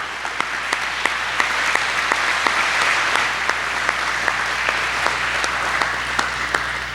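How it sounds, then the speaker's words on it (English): A school veterans day program audience gives sustained, loud, dense applause for veterans, with steady clapping filling the hall without pause and no talk over it. "Let's give them a hard round of applause."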